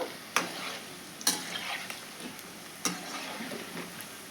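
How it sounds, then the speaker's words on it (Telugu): Amaranth leaf pakodi frying in hot oil over a low flame, a steady soft sizzle broken by a few sharp ticks and stirring clatters, close and fairly quiet, with no talking. "బయట ఫ్రై అవుతుంది కానీ లోపల ఫ్రై కాదండి అందుకే చిన్న మంట మీద పెట్టి ఫ్రై చేయండి"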